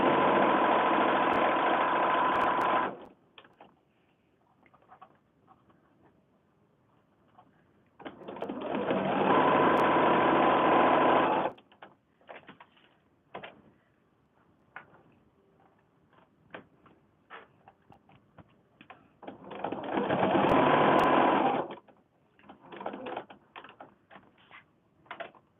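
A sewing machine stitches fabric book pieces in three steady whirring runs of a few seconds each, separated by quiet pauses filled with soft handling rustles.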